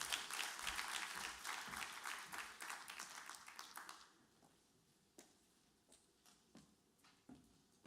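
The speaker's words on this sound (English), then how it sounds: "Please give her a warm round of applause." Audience applause at a social justice conference, a burst of dense clapping that thins out after a few seconds into scattered, isolated claps.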